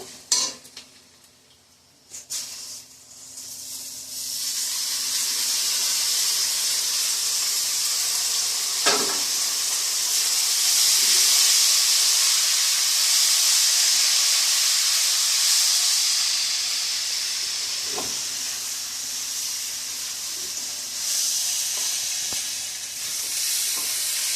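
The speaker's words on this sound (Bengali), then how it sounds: "ডালটা ভাজা হয়ে গেছে, আমি চালটা দিব।" Rice goes into a pan of fried lentils for khichuri, with a steady loud sizzle and hiss throughout, a few sharp stirring scrapes against the pan, and no talking.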